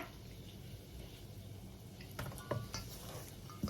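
Singapore lod chong flour dough being stirred in a bowl after hot water is added, a quiet hiss of background tone followed by a few scraping and clinking knocks of the utensil against the bowl near the end.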